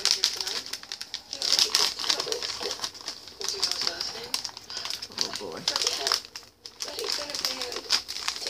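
Paper mail wrapping is crinkled and torn open by hand in a steady run of close, crackly rustles, with soft cooing birds in the background and occasional talk.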